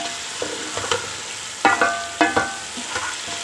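Beef and spices browning in a cooking pot for biryani, giving an uneven sizzle with a few sharp stirring scrapes and clatters near the middle, close and moderately loud with no talking.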